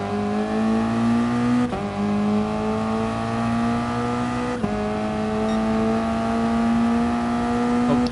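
A Toyota race car in a racing video game runs laps, its engine holding a loud, steady high whine that climbs through the gears with two sharp upshift breaks, alone without talk.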